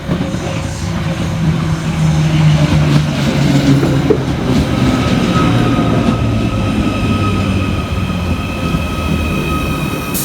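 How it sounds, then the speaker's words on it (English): Merseyrail class 777 electric train pulling into a station on the Liverpool Central line, loud steady rumble of wheels on rails with rising motor whine and tonal hums, growing then settling as it slows. "Next arriving into the station is 777-142, working the 11:01 Merseyrail electric service from Headbolt Lane through to Liverpool Central."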